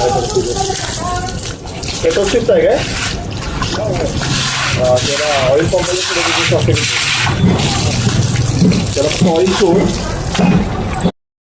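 Water runs steadily from a tap into a jar in a home workshop, a continuous splashing, gurgling stream heard close up, with a voice talking over it throughout.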